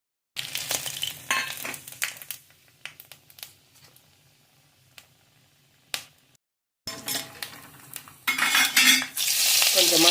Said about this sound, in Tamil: இதில் போட்டு நம்ம வறுத்து எடுத்துடலாம்.